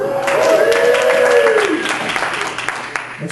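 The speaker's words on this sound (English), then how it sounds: "Thanks for the applause." Audience applause for comedian Christian Ferris at a Laugh Out Loud comedy show, a dense wash of clapping under a voice, which fades and thins toward the end.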